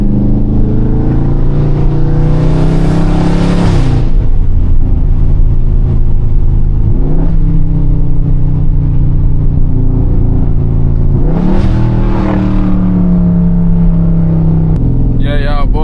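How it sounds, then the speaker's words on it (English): A Dodge Charger 392 Scat Pack engine revs and roars steadily, swelling in a couple of sharp bursts, with a deep rumbling loud exhaust throughout. "y'all worried about loud exhaust?"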